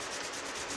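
Steady close rubbing and scraping as a rag wipes old, crumbling fiberglass-cardboard headliner backing off a car roof panel, a brief continuous scrub with no voices.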